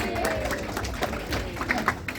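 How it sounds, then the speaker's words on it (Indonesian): Audience applause at an Indonesian community talk event, a scattered round of clapping with murmuring crowd voices underneath, moderately distant and fairly faint. "Tepuk tangan dulu dong."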